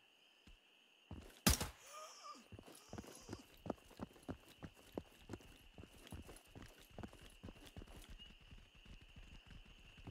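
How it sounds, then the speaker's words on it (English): Footsteps in the shooter Incursion Red River: a steady run of sharp, fairly loud thuds with an uneven clopping rhythm, following a single loud impact, over a constant high ambient tone. "There's a lot of footstep noises."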